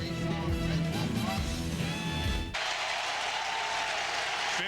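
Sellout college football stadium crowd of over 50,000 in Raleigh roaring on a third down, a loud, dense, sustained wash of noise with a sudden change in texture halfway through, no clear speech.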